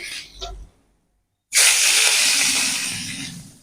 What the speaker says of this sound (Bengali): আরও মাছ আছে এটাও ভেজে নেবো একইভাবে